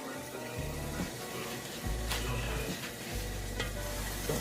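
Chickpeas frying in olive oil with salt and pepper give a steady sizzle with scattered pops and occasional stirring scrapes, close and moderately loud, with no talking.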